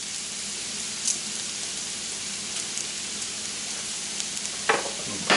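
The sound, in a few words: onions and thyme sizzling in a pan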